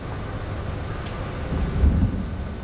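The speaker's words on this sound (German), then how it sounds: "Boah, ist das ein amtlicher Sturm." A storm rages in Train Sim World 4, with low rolling thunder rumbling steadily under rain and swelling into a heavier, louder roll about two-thirds of the way through, with no talking.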